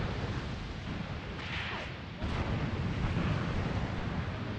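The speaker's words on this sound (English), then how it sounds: "Heavy artillery coming in over to the eastern side of that road." Heavy artillery explosions in the World War II game Graviteam Tactics: Mius Front, heard as a distant low rumbling roar that swells partway through, with faint crackling and a voice speaking over it.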